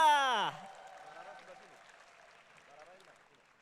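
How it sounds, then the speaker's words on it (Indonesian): Faint crowd applause rises at a live Indonesian event as a special performance is welcomed, following a brief loud vocal burst at the start and fading into soft, scattered clapping. "Beri tepuk tangan yang meriah."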